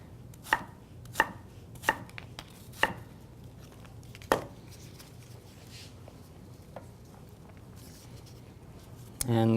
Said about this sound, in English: if you're going to chop it up, do it slightly larger so that way it doesn't mush up too much on you